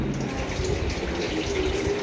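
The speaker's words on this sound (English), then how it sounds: "Now, I'm filling the tub with some water." Tap water runs steadily into a large tub for washing vegetables, a continuous close gushing and splashing hiss with no talk.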